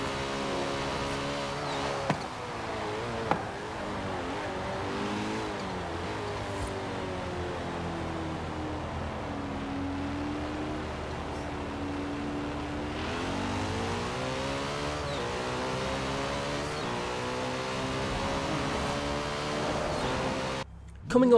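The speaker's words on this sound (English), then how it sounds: "They've certainly done a good job of making this car sound as vicious as it drives." Sports car from Forza Horizon 4 revving hard through repeated accelerations and gear changes, a loud, close, aggressive engine note rising and falling for about twenty seconds.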